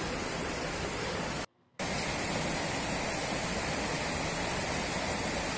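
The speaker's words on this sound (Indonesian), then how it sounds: "jadi ada banyak waterfalls di satu aliran sungai tersebut" Waterfalls along a descending river, a dense steady roar of rushing water, loud and close, broken by one brief cut of silence.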